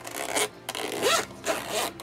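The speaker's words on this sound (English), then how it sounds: "Zipper feels good." The zipper of a Staedtler hard plastic pencil case is pulled in several short rasping strokes with brief gaps between them, close and clear, with no talking.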